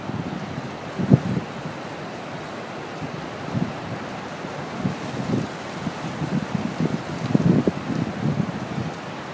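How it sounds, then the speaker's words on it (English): Steady, strong wind at Malibu Beach roars and buffets the microphone in gusts, with a low rumbling wash like surf underneath, no voices. "Hawa itni chal rahi hai na aaj."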